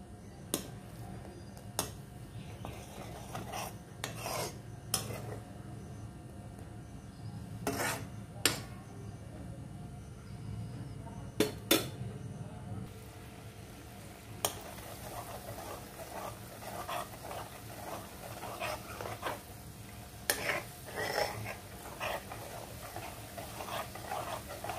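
Spoon or ladle scraping and stirring cream in a pan while it cooks down into ghee, intermittent clinks and rasping strokes over a steady low hiss, close and moderately quiet with no talking.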